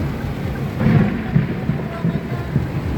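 Thunder from a storm rumbles low and loud through steady rain noise, with a few deeper rolling swells. Faint voices are mixed in.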